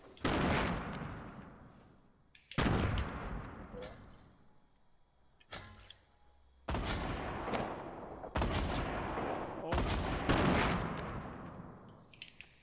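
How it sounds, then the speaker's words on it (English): Loud bursts of gunfire inside a house during a video game defence match, several heavy broadband blasts in irregular succession with short quieter gaps between them. "I hear shots or people cocking guns inside the house."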